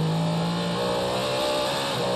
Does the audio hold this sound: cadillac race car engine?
yes